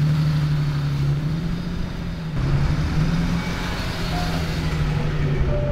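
Nissan 370Z drift car with a VQ engine idling, a steady low droning hum close by with a slight dip partway through, no voices.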